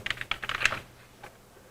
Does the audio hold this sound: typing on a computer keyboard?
yes